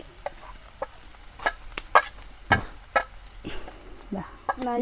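A spoon stirs crushed fennel, pepper powder and chilli powder into a dish in a pan, making a series of uneven scraping and clattering strokes over a light sizzle.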